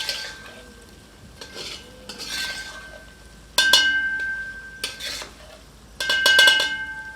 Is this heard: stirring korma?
yes